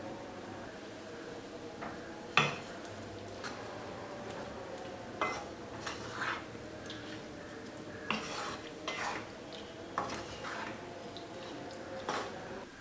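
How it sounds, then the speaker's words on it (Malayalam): Lemons are mixed into a white curry-lime pickle for an Onam sadya, with irregular clicks and scrapes of a spoon against a dish over a faint background, close and fairly quiet. "നമുക്കിനി ഇതിലേക്ക് നാരങ്ങ ചേർക്കാം. ഇനി ഇത് നന്നായിട്ട് മിക്സ് ചെയ്യാം."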